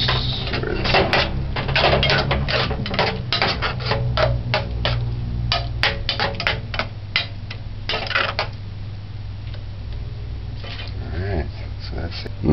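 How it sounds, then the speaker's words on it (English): Corned beef with green peas and ketchup stirred in a pan, giving repeated quick scraping and tapping clicks of a utensil against the pan in irregular bursts, close and fairly loud. "And just stir this up."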